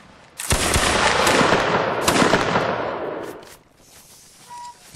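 A line of soldiers firing a musket volley in a Mount & Blade battle game: a sudden loud burst of many overlapping shots that crackles on for about three seconds and then dies away, followed by a few faint sounds.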